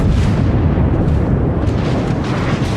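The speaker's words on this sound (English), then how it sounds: "And there goes the shells." Warship guns in World of Warships fire shells in a heavy, sustained roar, a loud deep rumbling boom that stays dense and continuous without pauses or voices.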